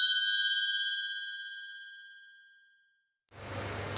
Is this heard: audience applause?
no